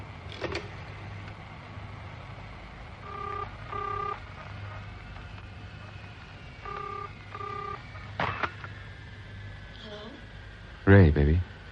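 Telephone dialing inside a phone booth in an airport terminal, from a radio drama: two short bursts of stepped tones, each a quick run of dial beeps, followed by clicks and a louder clunk near the end over a low hum.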